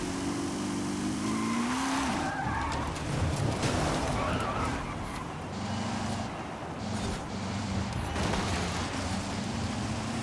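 A roaring racing car engine in Forza Horizon 5, a car making around 1,000 horsepower per engine, revs hard while its tires squeal and skid. The loud continuous engine note rises and falls, with no speech over it.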